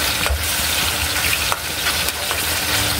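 Ground pork and carrots frying in a pan sizzle loudly and without a break, while occasional spatula strokes scrape and clack through the hiss.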